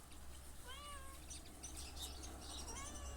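A cat meows outdoors in a village garden, several short rising calls in a row, fairly soft against steady rural background noise with a light hiss.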